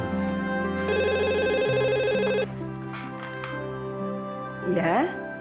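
An electronic telephone ring with steady tonal bursts, loud and close, over a continuous background tone, followed by a short warbling ring.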